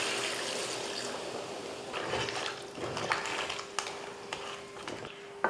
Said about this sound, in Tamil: கலந்து விட்டதுக்கப்புறமா தண்ணி ஊற்றிடலாம்.